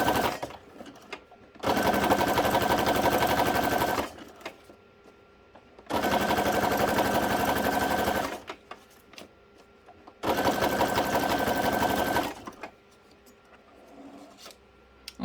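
Sewing machine stitching zigzag on a craft tag backing in three rapid buzzing bursts of about two seconds each, separated by quiet pauses, close and moderately loud.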